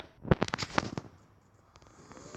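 Sharp burst of rapid gunfire from the Free Fire video game, a quick cluster of loud cracking shots in the first second, then a faint noisy tail with no speech.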